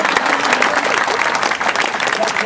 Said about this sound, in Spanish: Aplaudan, el aplauso es lo que nutre al artista